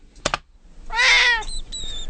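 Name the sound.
cat meowing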